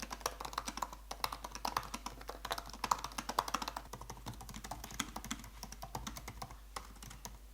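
Steady, rapid typing on a 16-inch MacBook Pro keyboard: a dense run of close, crisp key taps with irregular rhythm and no voices.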